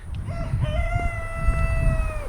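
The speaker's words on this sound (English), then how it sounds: "Rooster agrees." A rooster on a small self-sufficient homestead farm in southwestern Ohio crows once, a loud, drawn-out call lasting about two seconds over a low rumbling background.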